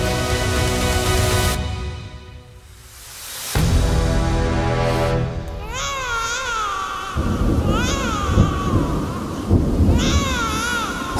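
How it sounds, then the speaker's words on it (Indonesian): Heavy rain pours steadily while loud thunder rumbles and rolls, with a wavering wail like crying rising over the storm in the later part. "Hujan lebat tak henti-hentinya menghantam dinding-dinding kokoh penjara di Mathura."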